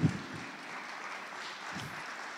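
Applause from a church congregation fills the space as two participants are brought forward: a quiet, steady wash of many hands clapping, slightly stronger at the very start, with no talk over it.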